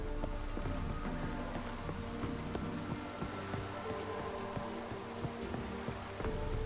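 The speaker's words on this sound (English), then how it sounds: "Looks like rain." Steady rain falls in The Witcher 3: Wild Hunt, a continuous broadband patter that fills the scene, with a faint musical drone and tones running underneath throughout.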